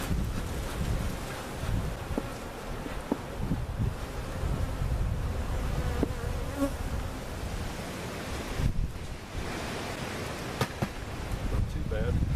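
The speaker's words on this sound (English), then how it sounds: "Probably not enough room for all of these bees to fit." Honey bees from a giant hive cutout being relocated at a bee farm buzz in a dense, continuous drone, partly blended with wind noise, with occasional human voices nearby.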